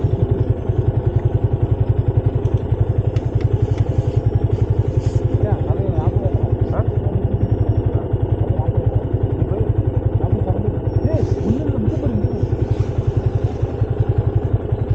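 A vehicle engine idles with a steady, rapid, loud putter on a forest road between Athirapalli and Valparai, close and continuous throughout, with voices talking over it.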